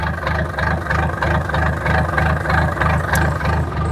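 Boat engine turned over with a key and settling into a steady idle, a loud close throbbing with an even pulsing rhythm and no talk.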